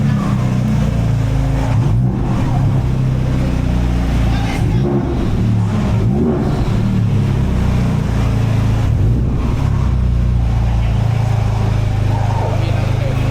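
A Honda Civic Type R fitted with bolt-on parts drives away, its engine revving in a few swelling bursts over a constant rumble, with voices talking nearby.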